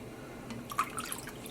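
A 1% dye stock solution is poured into pots of water for yarn dyeing, giving faint, brief liquid drips and splashes against a quiet room background, with no talking.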